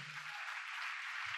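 A church congregation at a worship service applauds in a faint, distant wash of clapping, with short low bursts of sound at the start and end.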